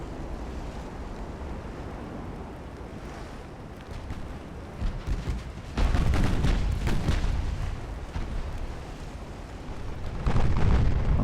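Shell hit explosion aboard a warship in Ultimate Admiral: Dreadnoughts, a low rumbling background that swells into heavy booming blasts, with the loudest eruption rolling on for several seconds midway and another surge at the end.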